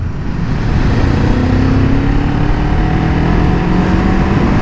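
A Kawasaki Ninja 7 Hybrid motorcycle ridden in sport mode, a steady loud engine drone with a rising tone and heavy wind rush throughout.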